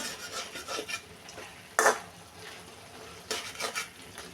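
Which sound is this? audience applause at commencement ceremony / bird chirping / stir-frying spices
stir-frying spices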